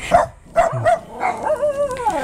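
A dog barks several times in quick, uneven yips, close by, ending with a drawn-out whining howl.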